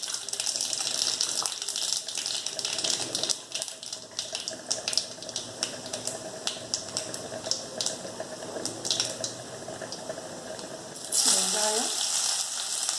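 Mustard seeds and urad dal crackle and sizzle in hot oil for tempering, a busy, close spatter of pops that runs steadily, with a brief clatter of stirring near the end.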